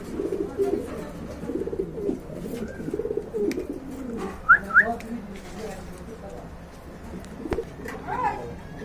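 Pigeons at a pigeon market in Bangladesh give low, murmuring coos alongside a few brief whistled chirps, against a steady crowd hum with occasional sharp knocks.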